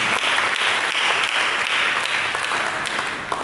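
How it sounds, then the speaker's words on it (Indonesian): Loud, dense applause from a church congregation, sustained evenly throughout with no talking over it. "Mari kita berikan tepuk tangan"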